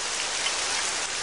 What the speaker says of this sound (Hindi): बारिश? ये तो बहुत कम है।